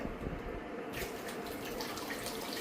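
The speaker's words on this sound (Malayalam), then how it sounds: "ആ ടാപ്പിൽ വെള്ളം തുറന്ന് ഫ്രഷ് വാട്ടറിൽ കഴുക" Water runs steadily from a kitchen tap while fish is being washed, a soft continuous splash that grows brighter and fuller partway through.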